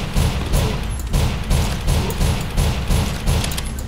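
Rapid gunfire from shooting enemies in the video game BloodWorks, a steady stream of punchy shots repeating at a quick, even rhythm, loud and close, with no talking.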